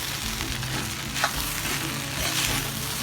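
Poha with salt and chopped coriander is mixed in a hot pan, a close, steady crackling sizzle with scraping strokes of a spatula and a brief louder scrape midway; no speech.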